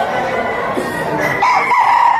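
A rooster, a bull stag offered at a gamefowl sale, crows loudly and close by, a single drawn-out call rising near the end, over a busy background of other birds.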